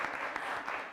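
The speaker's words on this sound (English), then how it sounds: "Let's give her a round of applause." A short burst of audience applause at an AI panel discussion, dense clapping from a crowd filling the whole moment at moderate volume.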